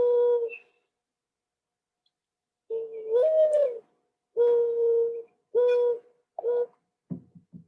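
Mourning dove from San Mateo County giving a clear, fairly close series of low hollow coos, one rising inflection followed by several steady drawn-out notes, then a few short clipped sounds at the end.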